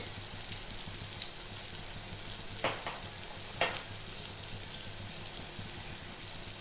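Ground coriander, cumin and Kashmiri chilli fry in a pan for khichuri, a steady close sizzle with a couple of brief stirring scrapes.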